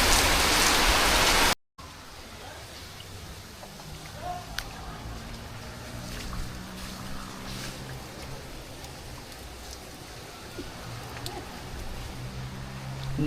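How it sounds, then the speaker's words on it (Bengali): Steady rain patters on surfaces as a Kalbaisakhi nor'wester storm dies down, opening with a brief loud roar before an abrupt cut, then a constant soft wash of drops. "ঝড় বৃষ্টি দুটাই প্রায় থেমে গেছে"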